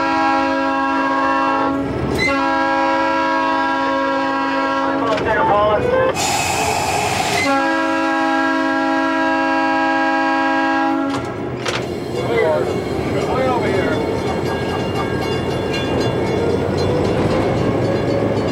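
A train horn sounds in long, loud blasts, then heavy rail rumble and clatter as a Fillmore & Western railway train rolls past close by, heading east past crossing gates.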